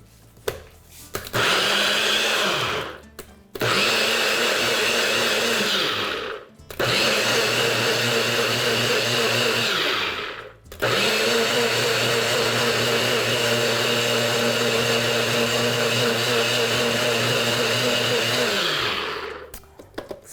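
A kitchen blender purées a Creole sauce in four loud bursts of whirring, each running several seconds. The pitch dips as the motor starts and stops, with short silences between pulses.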